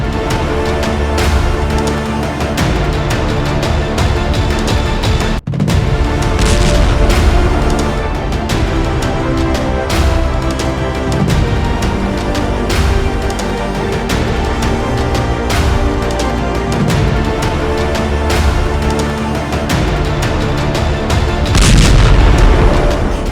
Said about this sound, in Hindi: धरती पर परमाणु बम के विस्फोट के बाद क्या होगा, सबसे पहले यह देख लीजिए